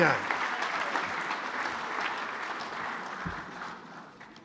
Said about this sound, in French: Merci de l'applaudir encore.